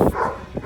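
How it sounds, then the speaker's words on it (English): Dogs of different breeds bark at a busy home compound in Jos, Nigeria that also keeps poultry, pigs and rabbits, with a couple of short, fairly near barks and a whimpering yelp over background hum. "you have different breeds of dogs"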